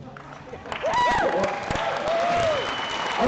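An audience at a robotics league tournament awards ceremony applauds with a broad wash of clapping and some cheering, while voices carry over the top.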